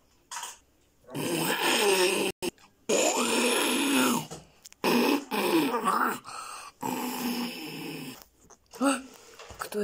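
A voice imitates loud, exaggerated snoring for a sleeping cartoon character in an Among Us parody series. The snores come as repeated rasping, groaning bursts with short silent gaps between them.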